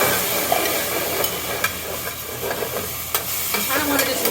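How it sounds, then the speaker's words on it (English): Maitake mushrooms sizzling in a pan as tamari is poured in to deglaze, a loud, steady hiss and crackle with light scraping of a stirring utensil, close up and without talking. "I'm kind of gonna deglaze with my tamari, so watch out, it's gonna get a little loud."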